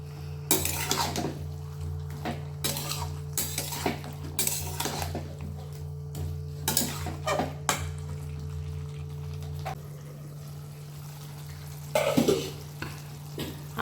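A spoon scrapes and clinks around a pan of Bengali-style vegetarian cabbage and potato curry as it sizzles gently, with bursts of stirring separated by quieter pauses and one loud scrape near the end.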